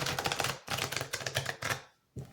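Tarot cards shuffled by hand in several quick, crisp rustling bursts, close up, with a short pause before a final brief burst; no one talks.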